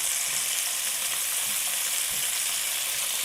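Shrimp and peppers with black pepper and ginger sizzle steadily in a hot stir-fry pan as they are flipped, a close, even hiss of frying with no talking.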